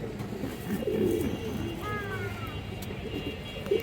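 Bagha pigeons, including a large female, coo softly in a loft with several low murmuring calls over steady background noise, alongside a faint sweeping whistle-like tone.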